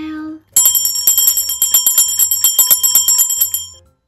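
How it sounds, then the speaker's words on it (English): A bright metallic bell rings alone, loud and close, after a brief low tone, with a rapid run of about two dozen repeated strikes lasting roughly three seconds before fading. "B is for bell"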